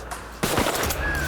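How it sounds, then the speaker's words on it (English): A single shotgun blast rings out at a crow hunt in Laurel County, a sudden loud outdoor report followed by a lingering rumbling tail. "Good shot."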